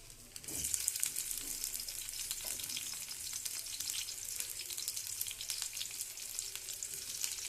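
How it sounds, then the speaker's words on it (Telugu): Onion pieces fry in hot oil in a pan, a steady close sizzle with crackling pops running throughout, no talking. "ఆ తర్వాత ఉల్లిపాయ ముక్కలు వేయించుకోవాలి"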